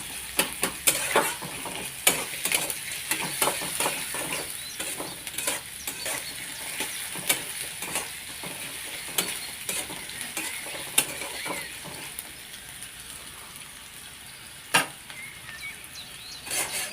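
Onions frying in a pan, for a cauliflower, potato and egg dish, giving a steady close sizzle broken by repeated scraping stirs of a spatula, with no voices.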